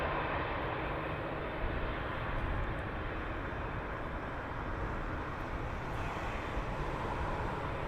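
An airliner taxiing at Heathrow Airport, a faint, steady low engine rumble heard from a distance with no other sounds over it.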